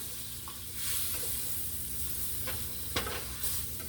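Chipped beef being stirred with flour in a pan for creamed chipped beef, giving a soft, faint sizzle with light scraping strokes and a couple of sharper clinks near the end.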